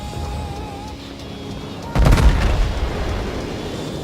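Naval gunfire from a USS New Mexico battleship in World of Warships: one loud booming shot about halfway through, with a rumbling tail that fades over the following seconds above a steady game background.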